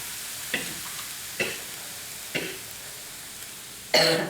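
Crab meat and spring onions stir-fried in a pan, a soft steady sizzle broken by a few distinct scrapes of the spatula at regular intervals, ending in a brief louder clatter.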